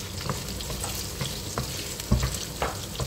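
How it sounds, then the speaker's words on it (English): Garlic sizzles in a pan while being stirred, giving a loud continuous frying hiss punctuated by scraping and clattering knocks from the utensil, with no voices. "Let's put in garlic and then you stir and start mixing."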